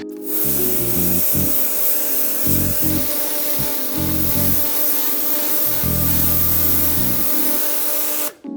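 A steady, loud hiss of high-pressure spray from a GTM mini pressure washer runs throughout, with a low motor drone pulsing on and off underneath, then cuts out at the end.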